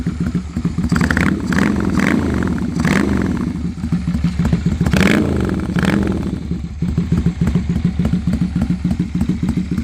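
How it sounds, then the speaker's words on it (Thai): Exhaust of a Honda Steed 400 single-carburettor motorcycle while riding, a steady close, loud low drone with repeated throttle swells and dips throughout, no talk. "เสียงท่อก็ดังอยู่แต่ว่าไม่มาก ขี่ดีนะครับ"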